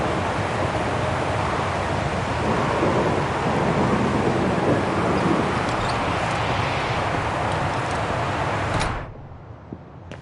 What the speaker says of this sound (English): bloody storm.